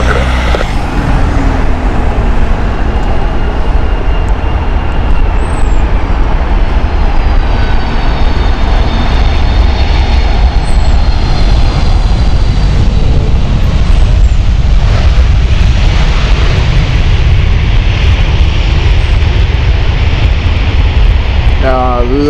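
Boeing 757 airliner on runway 27 right at Heathrow, a loud continuous jet engine roar that stays steady throughout, with radio chatter and a voice talking over it.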